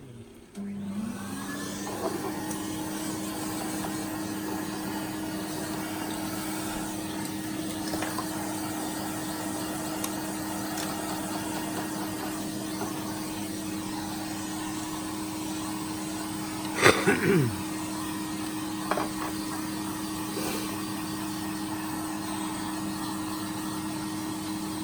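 A Hoover Junior U1012 vacuum cleaner hums steadily close by as its motor spins up and holds a constant whining drone, with a couple of brief knocks partway through.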